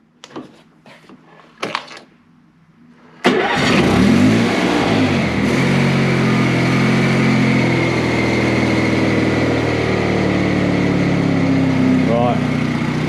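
Honda 3813 ride-on mower engine in a garage: a few sharp clicks and brief cranking bursts, then the engine catches abruptly and runs steadily loud with a rough mid-low drone to the end.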